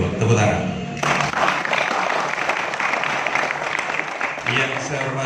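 An audience at a youth organization gathering in Jatirejo, East Java, breaks into sustained applause, dense clapping that swells after a brief spoken lead-in and continues steadily to the end.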